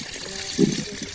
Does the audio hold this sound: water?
yes